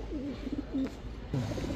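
A pigeon at a pigeon market coos in soft, low, wavering phrases close by, pausing briefly before cooing again over a steady background hum.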